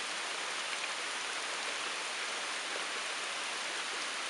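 Rain falls steadily outside during humid weather at an off-grid home, an even, unbroken hiss with no distinct drops, moderately quiet and alone without any talking.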